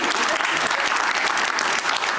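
Steady, full applause from a late-night television show's studio audience, dense clapping held at the same loudness from start to finish.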